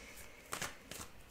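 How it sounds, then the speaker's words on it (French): Cards from an oracle deck are drawn and slid, giving a few quiet, brief papery riffles and flicks. "Je vais tirer une carte"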